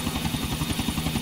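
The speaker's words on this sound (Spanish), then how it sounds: "Sigue el objetivo y espera una oportunidad para derribar su helicóptero" A helicopter in Grand Theft Auto IV, its rotor chopping in a steady fast rhythmic thud under a loud engine whine, close and continuous.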